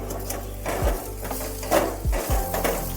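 Salt being stirred into a pea tikki mixture with oil in a pan, giving soft scraping and occasional clinks of the utensil against the pan at an uneven pace, close and alone with no talk.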